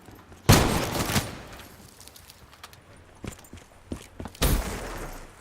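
Shotgun fire in Call of Duty Black Ops 3, with two sharp, heavy blasts several seconds apart and quieter clicks and shuffling game noise in between, with no talking.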